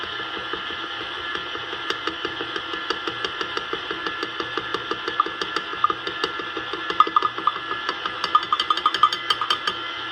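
A KitchenAid stand mixer kneading homemade bread dough, running steadily with a rhythmic knocking thump repeating throughout, growing slightly louder toward the end, with no voices.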